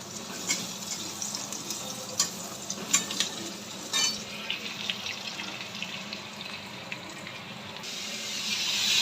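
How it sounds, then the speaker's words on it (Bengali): Green chilli, onion and panch phoron frying in a wok, a steady close sizzle with a few stirring knocks and crackles, no talk. "চচ্চড়ির জন্য এখানে কাঁচা লঙ্কা পেঁয়াজ আর একটু পাঁচফোড়ন দিয়ে কড়াই দিয়ে দিয়েছি"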